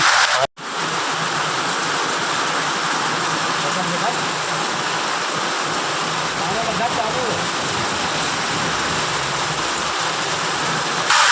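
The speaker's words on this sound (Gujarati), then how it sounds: "અને વરસાદ થઈ ગયો ચાલુ" Steady, dense rain pouring down close by, a continuous hiss with no breaks after a brief click at the start.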